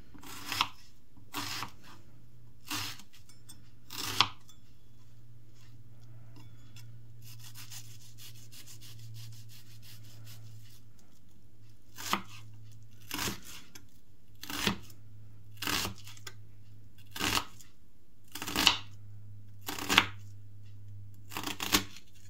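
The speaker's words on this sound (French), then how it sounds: "Je commence par couper mon oignon en deux, puis je l'émince." A knife slices through an onion on a cutting board in crisp, evenly spaced strokes, first a short run, then a quiet pause, then a longer series of close, sharp cuts.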